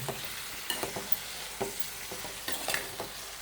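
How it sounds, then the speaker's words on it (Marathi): Vegetable bhaji of bharangi flowers being stirred in a pan, with a string of soft scraping and clinking strokes over a low, steady sizzle of frying, close up and with no talking. "भाजी टाकलेली आहे आता ढवळायची एकदम मस्त पैकी ढवळायची"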